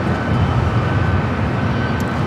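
A heavy airliner arrives at LAX during the afternoon, with a loud, steady jet roar and broad rumble that holds throughout.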